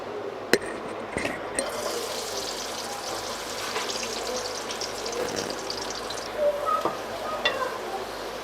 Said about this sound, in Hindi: 4 चम्मच हमने ऑयल लिया है, उसमें हम प्याज डाल के फ्राई करेंगे।